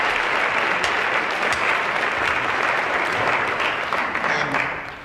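Audience applause at a retail trade show panel, a full steady wash of many hands clapping for several seconds before tapering off at the end.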